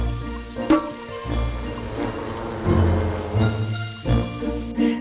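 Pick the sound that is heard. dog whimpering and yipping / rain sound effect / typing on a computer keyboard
rain sound effect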